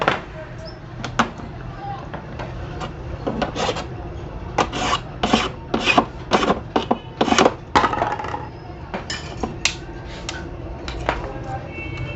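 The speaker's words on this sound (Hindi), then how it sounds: "ये यहाँ पे आप इसकी रगड़ाई कर सकते हैं ऐसे, ताकि लॉक बआसानी लग सके" A part of a homemade juicer being rubbed down so its lock fits, giving bursts of harsh rasping strokes in a quick irregular rhythm, close and loud, with a voice talking between them.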